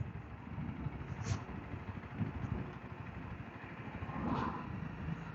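A tractor engine runs on a rural Indiana road ahead, a low, steady rumble heard from inside a vehicle following slowly behind, with a couple of faint clanks and swells in level.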